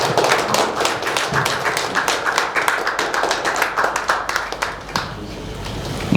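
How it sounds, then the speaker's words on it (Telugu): Audience standing to applaud doctors at a Doctors' Day health program, sustained close clapping from several people with sharp uneven slaps, steady throughout. "ఒకసారి లేచి నిలబడి చప్పట్లు కొట్టాలని కోరుకుంటున్నాను"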